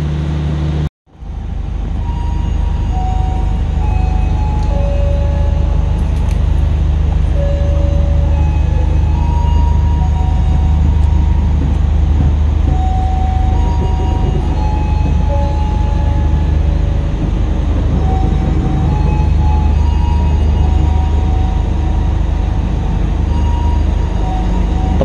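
Taksaka passenger train pulling away from Purwokerto station, a steady loud rumble of wheels and carriages with low engine drone, rail clatter and occasional squeal continuing throughout after a brief dip at the start.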